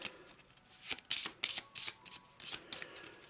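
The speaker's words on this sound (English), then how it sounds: "Do a quick shuffle." A deck of location cards from an Arkham Horror board game being shuffled by hand in several quick bursts of crisp riffling and slapping, close and clear, with no talk.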